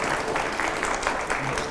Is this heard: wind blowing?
no